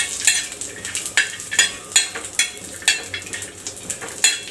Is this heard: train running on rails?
no